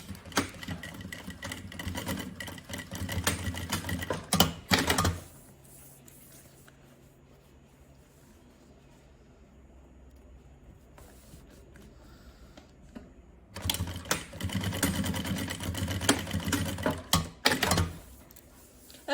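A sewing machine runs in two bursts of rapid stitching along the edge while attaching a zip to a backpack gusset, with a quiet pause between them.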